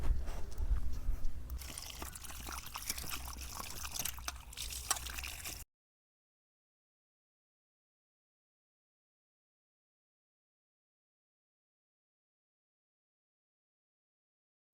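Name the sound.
washing peeled potatoes in water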